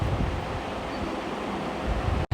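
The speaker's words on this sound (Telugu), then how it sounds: "ఈ ఒరిస్సా స్టేట్లోనే చాలా పెద్ద వాటర్ ఫాల్స్ అంటే ఇది" Gandahati waterfall in Odisha, a steady broadband rush of falling water with some wind buffeting, heard briefly and fairly close, without voices.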